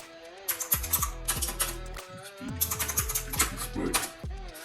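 Keys clatter in quick bursts on a computer keyboard, close and fairly loud, with short pauses between runs of typing and a faint voice in the background.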